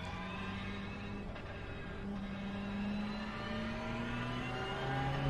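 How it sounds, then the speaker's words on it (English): A Ferrari Challenge race car accelerates to full throttle under a bridge at Road America, its engine note rising steadily as a droning tone with a faint, muffled character. "And up to full throttle under the Sargento Bridge here."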